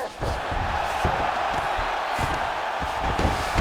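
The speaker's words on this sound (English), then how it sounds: "So the crowd absolutely loving it as these fighters work their way back to the feet" Steady, dense crowd roar with clapping and cheering fills an arena in the UFC 5 fighting video game, holding at an even, fairly loud level throughout with brief sharper claps poking through.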